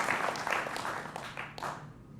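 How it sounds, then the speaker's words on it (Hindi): Studio audience clapping to welcome a political guest on a Hindi live TV debate show, a moderate, somewhat distant patter of applause that fades toward the end. "जोरदार तालियों के साथ स्वागत है"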